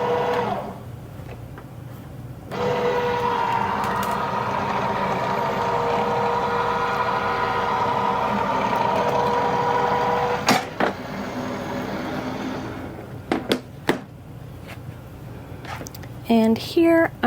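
A fabric cutting machine feeds a mat layered with quilting fabric through its rollers, a steady loud mechanical whir and hum running for about eight seconds, then stopping with a few clicks and clunks near the end.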